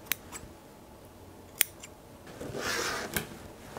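Scissors snip the fuzzy end off a sewn tie strap for an Old West tie, a few sharp, close cuts spaced apart with a longer rasping snip near the end, otherwise quiet.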